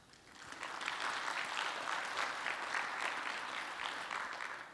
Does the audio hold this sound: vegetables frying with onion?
no